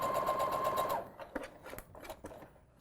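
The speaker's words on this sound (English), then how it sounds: "I'm just letting the sewing machine do its job." A sewing machine stitching fabric hums steadily for about a second, then stops, followed by a few soft clicks and handling noises.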